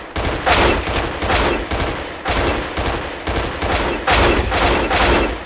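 An AUG rifle in Counter-Strike: Global Offensive hip-fired in short bursts: loud, close, sharp gunshot bursts repeating roughly every half second, with brief pauses between groups.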